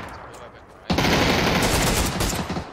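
Rapid gunfire erupts in a first-person shooter game, a sudden dense burst of shots after a quieter lead-in, continuing loud and close for a couple of seconds.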